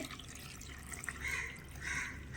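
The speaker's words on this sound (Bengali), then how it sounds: "কিছুটা দিয়ে দিচ্ছি জল" Water poured from a vessel over washed raw papaya pieces in a home kitchen, a soft continuous trickle and splash that swells twice, fairly quiet and heard alone.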